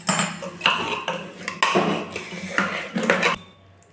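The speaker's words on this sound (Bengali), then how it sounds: "ডালটাকে খুব ভালো করে ঘেঁটে নেব মশলার সঙ্গে" A spoon scrapes and clanks against a metal pot while moong dal is stirred with spices, giving a series of close, uneven knocks and scrapes in bursts with no talking.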